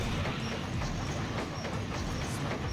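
A train rushes past in a level of the Sonic Adventure 2 video game, a dense, steady roar of rolling wheels with faint rhythmic clatter, loud and continuous throughout, no speech heard.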